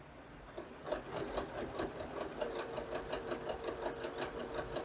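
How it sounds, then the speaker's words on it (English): A sewing machine runs steadily, stitching a braided table runner straight together, with a quick even needle rhythm, close up and alone after a short quiet start. "we're just going to simply sew this straight together"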